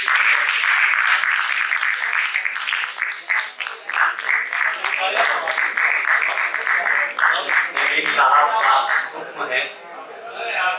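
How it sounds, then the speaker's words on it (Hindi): Audience applause at a poetry gathering as the poet Gulzar Jigar is invited up, a long run of loud, dense clapping that swells and dips, trailing off slightly near the end. "जोरदार तालियों से"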